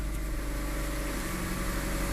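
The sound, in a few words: 3G Mitsubishi Eclipse engine idling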